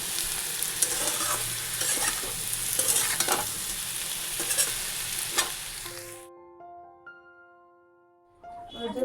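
A paneer curry with potatoes and chili sizzles steadily in a pan, with stirring scrapes through the first six seconds before the sound drops away to near silence and a faint tone.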